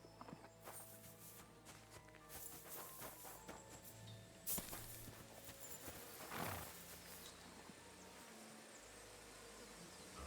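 A horse in the medieval game Kingdom Come: Deliverance 2 clip-clops along at a steady walk, with buzzing insects and an ambient outdoor bed underneath.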